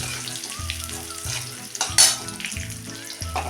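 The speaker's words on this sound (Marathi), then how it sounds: "आता टाकूया हा कढीपत्ता" Curry leaves sizzling in hot oil for chivda, a close crackling fry with repeated stirring scrapes and a sharp louder spatter burst midway, no talking.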